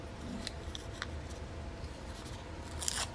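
Scissors snip through a strip of green paper during a craft project, a few short crisp cuts, close and fairly quiet against a soft background.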